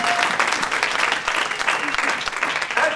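A church congregation applauds and cheers for the Lord, a dense, loud burst of clapping from a crowd filling the space continuously, with scattered voices mixed in.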